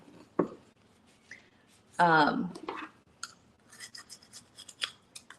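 Scissors scraping and rasping grease off a hard metal surface, with a loud sustained burst and scattered short clicks and scratches, close by; a voice speaks briefly.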